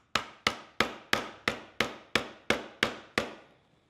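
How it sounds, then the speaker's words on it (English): A ball peen hammer taps purse hardware flat on a leatherwork project, ten sharp, evenly spaced strikes, each ringing briefly before the next, close and clear with no talk. "So I'll use my ball peen hammer, not my nice leather hammer that I don't like to scratch up."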